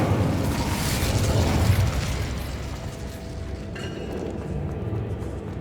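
In the video game Hogwarts Legacy, the Incendio fire spell roars as a dense, continuous rumbling whoosh of flame with crackle, loud and sustained over several seconds, tapering slightly near the end.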